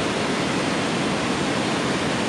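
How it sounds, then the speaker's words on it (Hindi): A fast mountain stream in the Himalayan valley near the Valley of Flowers trail rushes past in a steady, loud, broadband roar, continuous and close, with no voices over it. "ये नाला है, बहुत तेज पानी की धार है"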